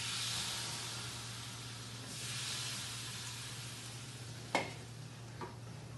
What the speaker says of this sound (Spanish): vamos a que se fríe con el Furloco directamente